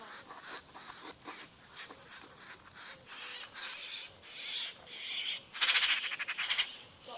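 A magpie calls near a nest in an outdoor garden, giving rapid rattling chatter in short repeated bursts that swell into a louder, close run of calls toward the end, with no speech.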